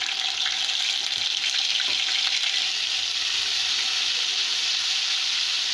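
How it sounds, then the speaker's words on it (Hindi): Ginger garlic paste sizzles loudly in hot ghee, a dense, steady frying hiss that holds evenly throughout with no one talking. "इसमें हम डाल देंगे 1 टेबल स्पून लहसुन अदरक का पेस्ट।"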